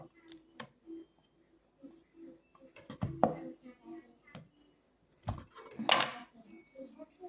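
Knife peeling boiled cassava in a home kitchen: scattered light scrapes and clicks of the blade, with a couple of louder knocks, and someone speaking between them.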